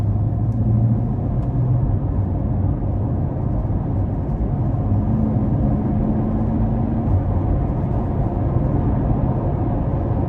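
A 2022 Chevrolet Corvette C8 Convertible 3LT Z51 pulls hard under power, its engine a loud, steady, deep rumble that drones close and unbroken throughout, with no voices over it.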